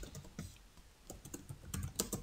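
Rapid, light clicking of keys on a computer keyboard as code is typed, close and continuous with small uneven bursts.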